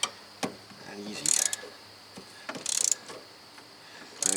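A ratchet works a bolt loose on the intermediate steering shaft of a 2007 Tacoma 4x4, giving short bursts of quick clicking separated by gaps, with duller knocks of tools and metal between them.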